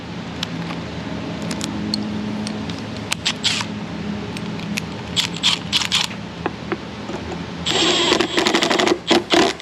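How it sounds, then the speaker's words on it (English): A socket on an extension tightens a hose clamp during a cheap-parts repair on a vehicle: scattered sharp metallic clicks and taps up close, then a brief buzzing tool burst near the end. "go in with a socket and an extension and put some torque on that clamp"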